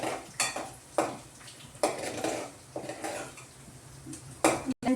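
Kitchen clatter while making chicken egg noodles: a utensil repeatedly knocking and scraping against a frying pan in sharp, irregular strikes over a faint sizzle, close and fairly quiet.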